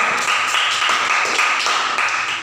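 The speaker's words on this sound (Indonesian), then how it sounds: "Berikan aplaus yang meriah." Applause from students in a classroom during a high school microteaching practice, a steady wash of many hands clapping together for the whole stretch, fairly loud and close with no talking.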